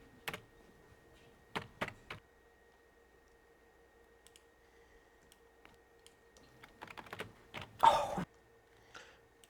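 Sparse bursts of computer-keyboard typing in a film scene, with isolated key clicks separated by quiet gaps and a denser flurry near the end, over a faint steady hum.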